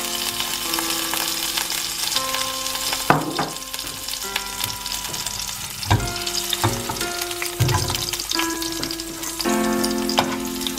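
Chana dal and urad dal frying in hot oil for vermicelli upma, a continuous close sizzle and crackle with occasional sharp pops and spoon taps against the pan, no talk.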